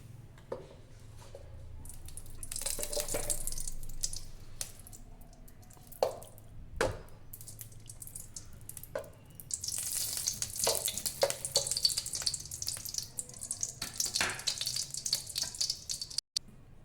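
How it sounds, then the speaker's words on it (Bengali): Hot ghee sizzling and crackling in a pan, quiet at first, then bursts of busier spitting with scattered drips in the second half. "এখানে আমি পরিমাণ মতো ঘি দিয়ে দিচ্ছি"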